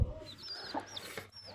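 A hen clucks softly beside newly hatched chicks, with brief high peeps from the chicks over the low, close clucking in a short, quiet burst.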